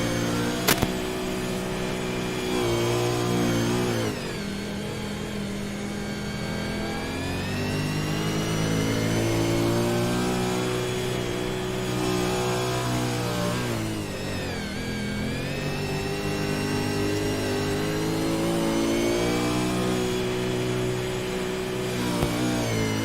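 A dirt oval race car engine recorded onboard during laps, loud and close, rising and falling as it revs hard down the straights and backs off into the turns, repeating lap after lap with no talking.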